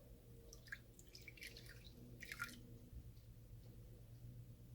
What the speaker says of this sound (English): put the yeast here, and then I'm gonna pour some warm water on it